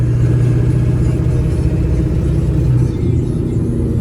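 A 1996 Ford F350 with the 7.3 diesel rolls along steadily, its low engine drone and road rumble continuous and close throughout.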